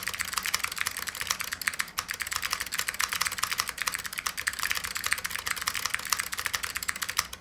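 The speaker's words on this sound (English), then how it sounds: "this is the keyboard with no solenoids" Fast, continuous typing on a Lunar II keyboard without solenoids, with crisp, dense keystrokes close to the mic and no voices.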